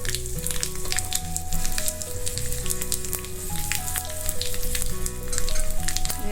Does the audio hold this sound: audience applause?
no